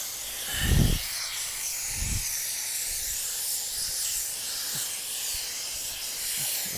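A steady hiss of water spray rinses shampoo from underneath a dog during a bath, running continuously at moderate volume with a couple of low thumps early on and no talking.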